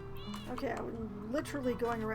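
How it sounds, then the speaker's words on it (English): A cat meows in PowerWash Simulator, a few drawn-out, rising and falling meows heard softly beneath a person talking. "I'm sure that is a cat."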